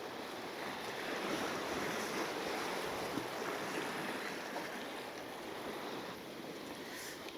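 Steady sea wash and surf noise around a boat while sea fishing off the Isle of Wight, a continuous broad rushing with some wind, no talking.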